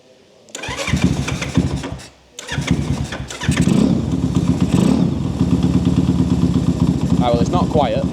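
A Honda C50 motorcycle with a swapped engine, started on choke, cranks and catches, stumbles briefly, then settles into a loud, steady, close-up putter running throughout.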